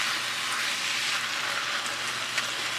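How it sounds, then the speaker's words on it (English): Baked ziti mixture being stirred in a hot pan, a dense continuous sizzling hiss with soft scraping underneath, steady and close, no voices. "And we're going to stir this up a little more."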